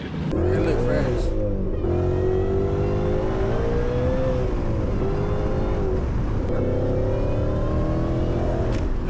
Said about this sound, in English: That Whipple whine is ridiculous.